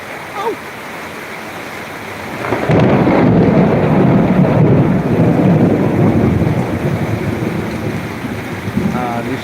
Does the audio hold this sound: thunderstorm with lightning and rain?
yes